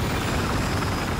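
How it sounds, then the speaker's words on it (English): An enemy helicopter in Battlefield 4 thrums steadily overhead, a loud, continuous rotor roar with dense low chopping that stays constant throughout. "Enemy helicopter above us."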